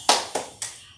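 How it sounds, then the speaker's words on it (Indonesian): Three sharp hand claps in an even, steady rhythm, close and fairly loud, as a primary school class does the tepuk semangat clapping chant. "mari kita lakukan tepuk semangat ya"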